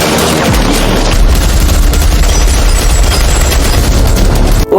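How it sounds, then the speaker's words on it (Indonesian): A loud, dense burst of sustained automatic gunfire from an action scene in the 2024 film Escape, rapid overlapping shots and booms filling the whole stretch with no pauses. "Kyung-nam dan Dong-hyuk harus menghadapi rentetan tembakan dari anak buah Yung-sang."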